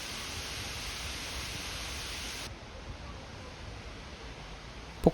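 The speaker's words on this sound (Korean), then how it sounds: "저 앞에 폭포가 보이네요. 인공폭포인데도 불구하고 규모가 크고 잘 만들어져 놀랐는데요." Large artificial waterfall near a trail pours in a steady broadband roar, loud and constant for the first half and then softer and more distant, with no voices over it.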